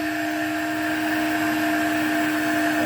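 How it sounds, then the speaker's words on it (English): Electrolux Z vacuum cleaner motor running steadily in a loud continuous whine with strong sustained tones, its pitch holding fairly constant across the stretch, no voices over it. "Sudden change in tone of the motor, and look, the light's gone off"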